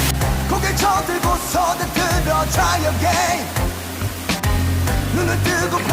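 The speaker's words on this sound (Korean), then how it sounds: "가야산에 있는 폭포 중에 제일 웅장하고 멋진 것 같네" A large waterfall more than 40 m tall on Gayasan mountain roars steadily and loudly in broadband rushing water, close and continuous with no talk.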